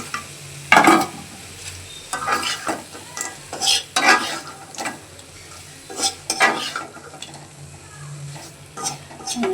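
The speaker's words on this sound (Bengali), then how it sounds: "মশলাগুলো কষে এসেছে আমি ভাজা মাছগুলো এখন দিয়ে দিচ্ছি" Fried chapila fish being stirred into a sizzling pan of cooked-down spice masala, with steady frying hiss and repeated scraping stirs and utensil clatter against the pan, close and fairly loud.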